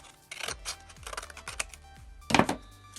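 Scissors snipping curves into a paper model, a series of close, crisp cuts in uneven rhythm, ending in a louder burst of snipping and rustling paper.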